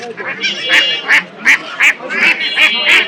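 Domestic ducks at a village poultry market in Nalitabari, Sherpur, giving about seven loud, close, evenly spaced honking quacks in a steady series, with low market murmur beneath.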